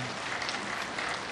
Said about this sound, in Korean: 우리 피아노 반주라 정말 새벽 기도에도 반주 잘하고 그러는데 우리 박수 한번 해요